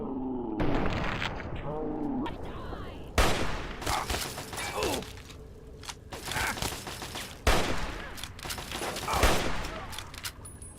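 Gunfire in Fallout 3: a handful of sharp, loud individual shots spaced a few seconds apart, each trailing off into echoing mechanical clatter, with a person talking between them.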